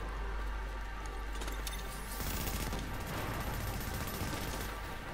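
Dense gunfire from automatic weapons in the video game The Division during PvP play, rapid continuous bursts that swell louder midway and keep rattling without pause.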